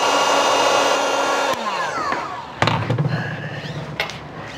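A heat gun running on low heat blows a steady, loud whoosh over a quarter-inch instrument cable connector, then winds down and is followed by a few close clunks and handling knocks.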